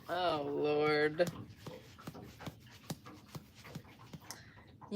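A dog gives a high, drawn-out whimper, then breathes in quick, soft pants at a steady rhythm, close by.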